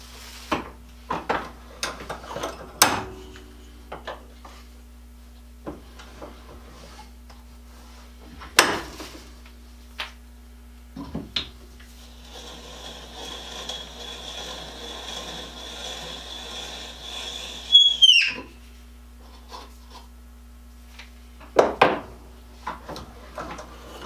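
A wooden dowel peg being chamfered at its edge, heard as scattered close scrapes and knocks of wood, then a steadier rasping stretch that ends in a short squeal, followed by a few more bumps.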